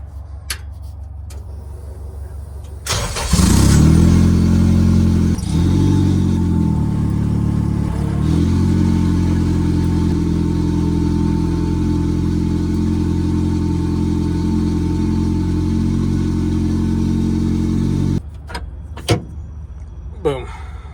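A K-swapped VW Beetle engine revs hard as the car launches, a loud sustained roar with a rising, then steady drone for about fifteen seconds, with quieter mechanical rattles before and after.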